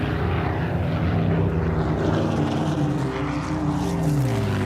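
A loud, steady de Havilland Mosquito propeller aircraft engine drones close by, its throbbing hum holding constant throughout before cutting off abruptly.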